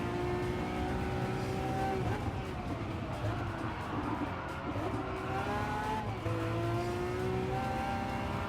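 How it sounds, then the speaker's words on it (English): Race cars in Gran Turismo 7 during a Nations Cup online race, engines droning and shifting pitch as one accelerates past, with faint tire squeal under a steady mechanical hum. "He just accelerates smooth past me."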